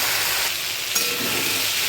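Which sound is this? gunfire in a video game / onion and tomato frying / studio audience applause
onion and tomato frying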